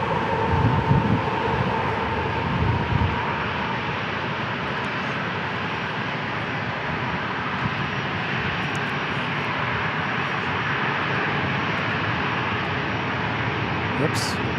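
Airplane on a ferry flight at San Diego International Airport, a steady broad engine roar that holds loud and even throughout, with no clear start or fade.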